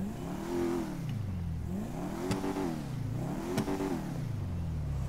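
A Dodge Charger in GTA V revs repeatedly, its engine pitch rising and falling in rolling swells over steady mid-range drone, with a couple of sharp clicks between revs and no voices.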